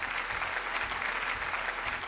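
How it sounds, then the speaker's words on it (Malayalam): A studio audience at a Malayalam TV game show breaks into applause, a dense, even wash of many hands clapping that holds steady and close for the whole moment. "നല്ലൊരു കൈയടി."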